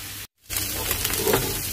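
Tomato dosa cooks on a hot pan, giving a steady broadband sizzle that cuts out for a moment and then resumes at the same level.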